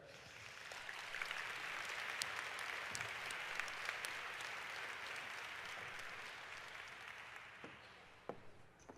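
A conference audience at a literacy and learning day gives sustained applause to welcome a guest speaker, a steady even roar of clapping that holds for several seconds before thinning out at the end.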